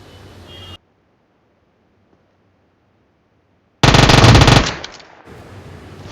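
Rapid automatic gunfire bursts out in a battle royale video game, loud and close for about a second before fading into a noisy tail, after a stretch of near silence and with no speech.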